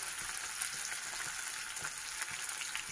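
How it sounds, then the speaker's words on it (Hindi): Onions frying in a pan for a mutton curry, a dense, steady close sizzle and crackle with no voices. "ये प्याज को अच्छे से फ्राई कीजिए"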